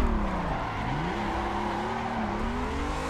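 Engine of an E30 sliding sideways in Assetto Corsa, revs rising and falling steadily with tire squeal underneath, loud and close throughout with no talking.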